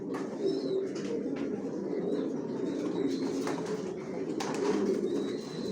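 Racing pigeons in a loft coo softly and repeatedly, a low steady murmur with occasional faint chirps and wing flutters nearby.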